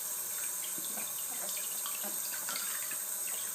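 Tap water runs steadily over a Sony Xperia M4 Aqua smartphone held under a faucet, a continuous close splashing hiss with small droplet spatters and no talking.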